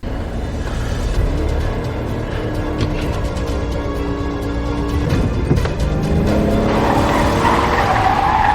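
A car speeds away with its tires skidding and squealing, a loud, continuous engine roar with screeching rubber that intensifies toward the end, heard close with no talking.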